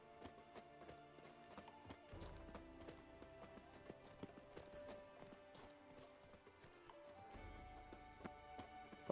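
Horse hooves clip-clop steadily through a The Witcher 3 Blood and Wine game scene, with a faint whinny woven into layered background music and ambience.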